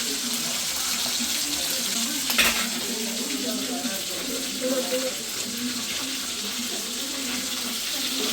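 Liquid boils vigorously in a pot at a village temple festival in Thoothukudi, Tamil Nadu, a steady, dense bubbling and hissing that carries on evenly throughout.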